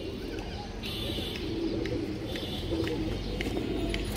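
High-quality pigeons cooing in a busy pen, soft repeated low coos under a dense steady background of rustling and noise.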